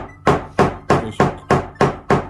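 Nylon mallet pounding a leather seam on an anvil, seven evenly spaced heavy thuds in quick succession, close and clear, with no talking.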